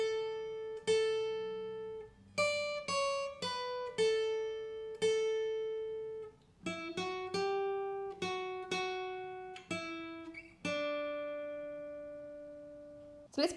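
A clean plucked guitar plays a slow melody line from a song, single notes ringing out one after another with brief pauses, with no voices.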